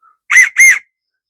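Medium-sized homemade wooden dowel whistle blown in two quick, bright, slightly breathy toots close up, with nothing else around them.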